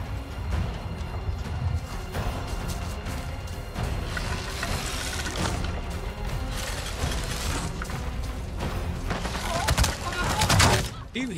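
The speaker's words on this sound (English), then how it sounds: "He was shooting before I even got to the damn corner." Enemy gunfire in the shooter game Avatar Frontiers of Pandora: dense rapid bursts and sharp cracks crowd the mix at steady loudness, the volleys thickening near the end, with a player's voice talking over parts of it.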